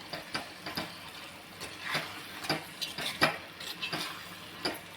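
Cooked eggplant bharit being stirred and mixed with fresh coriander, a spoon scraping and clinking against the pan in quick irregular strokes, close and fairly quiet, with no voices.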